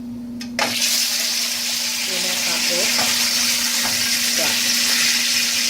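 Steady, loud sizzling of food frying in oil, a continuous crackling hiss with faint clinks under it.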